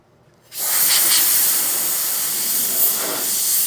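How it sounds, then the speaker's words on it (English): Forced air blows across a scratched surface to dry it after patina treatment, starting abruptly as a loud, steady broadband hiss that holds for several seconds with slight swells and no voices. "forced air is going to be your best friend for the next step"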